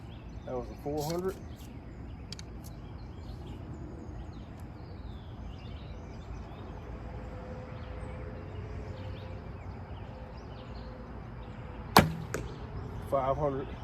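An Easton 500 spine arrow released outdoors hits a target block with a single sharp impact late in the clip, preceded by a quieter earlier sound amid continuous low ambient noise and faint distant bird calls.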